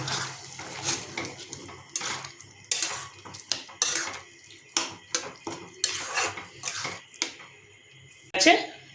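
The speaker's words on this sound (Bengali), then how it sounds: "এটাকে খুন্তিতে ভালোভাবে নাড়িয়ে নেব" A spatula stirs mutton ghugni, a pea gravy cooked in mutton fat, in a metal pan after water is added, with repeated clanking scrapes and knocks in uneven bursts while someone talks over them.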